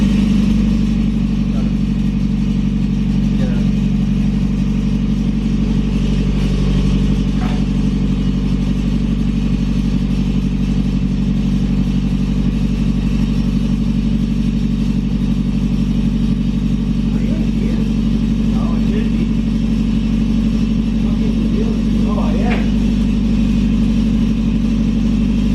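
A Mazda NA Miata engine with an ISR exhaust idles steadily, a loud low drone with a metallic rattle running through it, while people talk over it.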